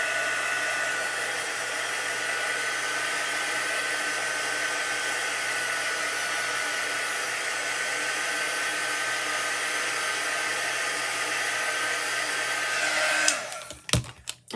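A handheld dryer tool blowing steadily on a chalk transfer for a crafting project, a loud constant whirring hum that runs for several seconds before switching off, followed by a few handling clatters.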